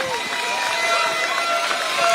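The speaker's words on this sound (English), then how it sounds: "Let's give Marcel a round of applause." Rally crowd at Bedok Stadium clapping: a dense, steady wash of applause mixed with cheering and voices, loud and continuous throughout.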